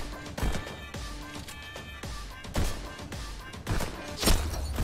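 Gunshots in the VR rhythm shooter Pistol Whip punch out in a regular beat-timed pattern of sharp bangs, close and punchy, layered over pulsing music.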